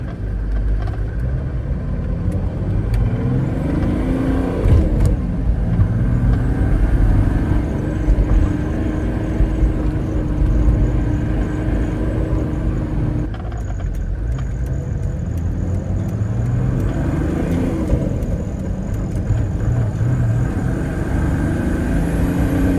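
A Mercedes OM606 diesel engine fitted with a Dieselmeken 7.5 mechanical injection pump and an anti-jerk kit runs steadily at close range, a loud continuous rumble with slow surging swells in engine note and no talking.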